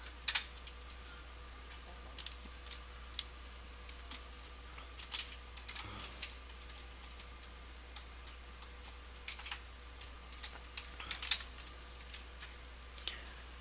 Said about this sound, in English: So first I'm just going to type in